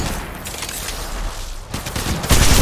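Bursts of gunfire in the mobile battle royale Apex Legends Mobile, rapid shots clustering near the end, loud and close with no talk.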